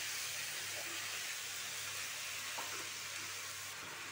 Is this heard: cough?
no